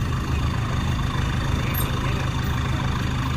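A dump truck's heavy diesel engine idles steadily nearby, a low rumbling, lightly knocking drone that continues throughout.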